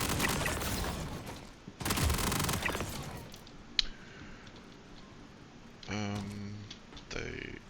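SMG fire in Star Citizen comes as sharp bursts of rapid shots, some loud and close, broken by a single crack, with quieter spells and a voice talking in between.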